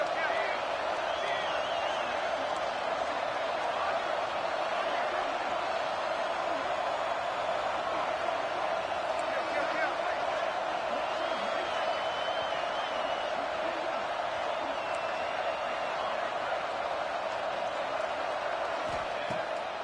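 Stadium crowd in a football video game, a steady, dense roar of cheering fans building on third down, running continuously beneath a commentator's play-by-play voice.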